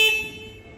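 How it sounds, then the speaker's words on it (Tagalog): Horn on a Dingli scissor lift, a single short tonal beep that sounds at once and quickly fades, close and moderately loud, alone without speech. "Itong isa horn"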